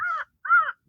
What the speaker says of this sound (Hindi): कौवा चिल्ला रहा है